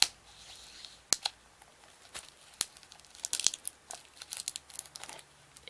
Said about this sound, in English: now I'm gonna just kind of open it with the scissors